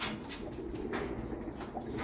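A racing pigeon near its loft on a hot day gives soft, low cooing over a steady outdoor background, with a few faint higher chirps mixed in.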